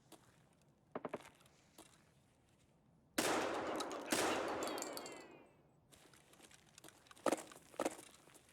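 Mounted machine gun firing in the game Escape from Tarkov, with sharp scattered shots followed by a loud sustained roar of automatic fire lasting a couple of seconds and more bursts afterward. Distant, with no speech.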